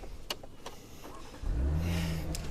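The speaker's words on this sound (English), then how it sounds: "I can't because I need to switch on the car first." A 2019 Porsche Cayenne S fires up after a few faint clicks, its engine catching with a loud low rumble and settling into a steady near idle that runs to the end.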